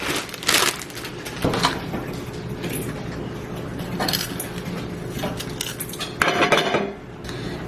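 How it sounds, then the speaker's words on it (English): Onions and bell peppers being chopped with a knife for a weekly meal prep, giving repeated close, sharp cuts against a board with clattering of kitchenware, no talking. "I'm cutting up the onions and bell peppers."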